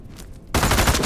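Automatic gunfire in the VR shooter Into the Radius 2 breaks out suddenly as a loud, rapid burst of rattling shots up close after a brief quiet moment.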